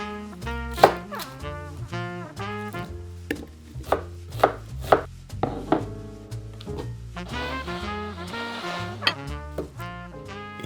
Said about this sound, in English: There's several onions, several cloves of garlic to peel and chop.